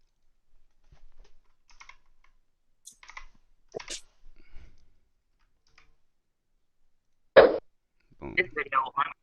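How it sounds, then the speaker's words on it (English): Scattered clicks and taps on a computer keyboard as a stop loss order is typed in, sparse keystrokes close by with a sharp louder click and a short burst of typing near the end. "Let me just type it in"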